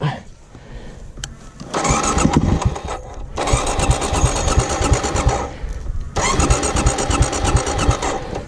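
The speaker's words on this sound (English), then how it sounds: "The bike won't start." A Yamaha WR250R dirt bike's starter churns in two long cranking bursts, loud and close, with a brief pause between and no sign of the engine catching, after a short rustle at the start.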